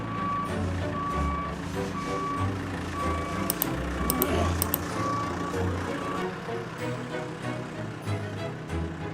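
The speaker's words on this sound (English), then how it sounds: "we need this enormous machine, this loader, to pick each of them up, drop them in the lorry" A large loader lifting stone eagles off gate piers sounds steady, evenly spaced reversing beeps over a loud diesel engine rumble, with a few sharp metallic clanks partway through.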